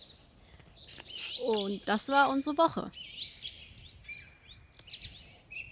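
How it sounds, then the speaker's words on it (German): Several birds chirp and trill outdoors in Sweden, clear repeated calls scattered through the clip, while someone speaks briefly in the middle. "die Vögel zwitschern total schön"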